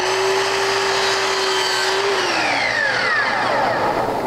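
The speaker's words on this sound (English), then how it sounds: "So I'm going to swing my saw in the opposite direction, dropping the laser right" A miter saw whines loudly as it cuts through wooden door-head molding, the motor pitch steady and then dropping as the blade bites and spins down, with no voices.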